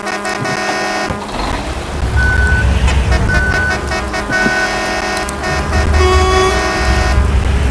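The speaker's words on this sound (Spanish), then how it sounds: "yo toco la bocina, chicos, al iniciar el viaje" A bus horn honks in Bus Simulator Ultimate, several short toots over a steady engine hum, with beeps and tones from the simulated traffic around it.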